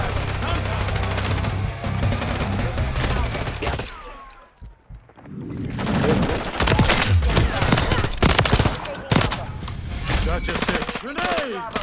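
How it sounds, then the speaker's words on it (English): A machine gun in the Call of Duty video game fires in dense, loud, rapid bursts that pause briefly midway, then resume while players talk. "I got the machine gun."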